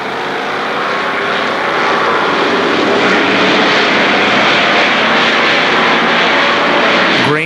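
Race cars roar together at the green flag at Kil Kare Speedway, a loud, steady wall of engine noise that swells slightly and holds for several seconds with no voices.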